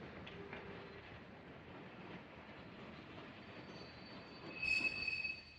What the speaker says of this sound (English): Here he saw a train arriving